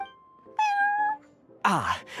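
Prince, the cat in the video game Genshin Impact, lets out two clear, close meows: a sustained, tonal call followed after a pause by a brighter, rising second meow, heard alone.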